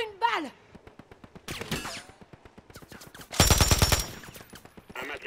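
Gunfire during a video game match in Urzikstan: a steady rapid train of shots with a louder, denser burst near the end, while a player speaks briefly over it.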